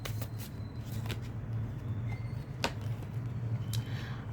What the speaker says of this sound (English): we are going to take a final card for today's reading